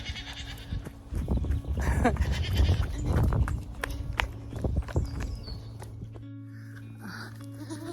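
Goats crowd around on foot, several bleating up close in loud, overlapping bursts with hooves and footsteps shuffling, the calls thinning out toward the end, and a person speaks briefly between them.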